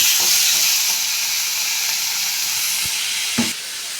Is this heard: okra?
yes